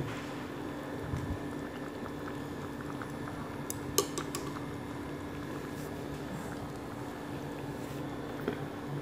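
Braised fish simmers in a pot of dark reddish-purple broth, giving a continuous low bubbling and gurgling with a few small clinks, no voices over it.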